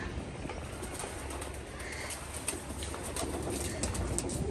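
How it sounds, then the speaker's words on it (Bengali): Pigeons coo softly and flap their wings outdoors in a yard with guava and jujube trees, the calls faint and somewhat distant against steady background noise. "এই যে কবুতর"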